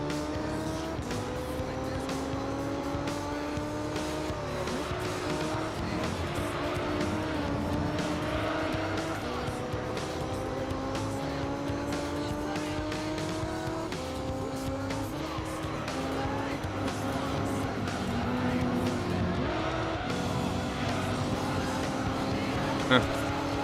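Race cars overtaking in Gran Turismo 3: A-Spec, with engine notes rising and dropping through gear shifts and brief tire squeal, steady and close under a talking voice.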